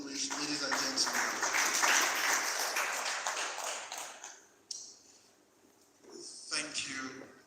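Applause at a builders' conference rings out loud for about four seconds, then fades; a voice speaks briefly once the clapping dies down.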